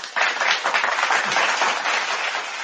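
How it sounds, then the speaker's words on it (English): A short round of applause for a guest at a live interview, a dense burst of clapping from a small group that holds steady for a couple of seconds before easing off. "I'm gonna give her a round of applause too"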